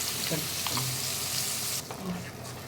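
Ground spice paste for a Tamil garlic kuzhambu goes into hot oil and fries with a steady, close sizzle, joined by a few soft stirring scrapes across the pan.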